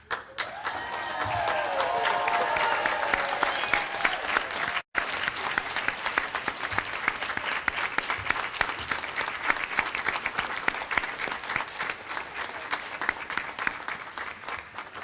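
Graduates at a commencement ceremony receive a long, steady round of loud audience applause, dense clapping from a large crowd that holds constant for the whole stretch apart from one brief dropout.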